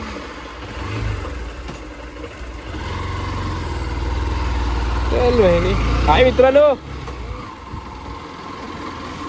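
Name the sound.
car engine climbing mountain ghat road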